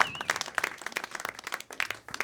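Audience applause at a stand-up comedy show, a burst of dense, fairly distant clapping with a few louder individual claps and faint voices.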